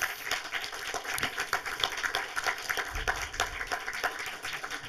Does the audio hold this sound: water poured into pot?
no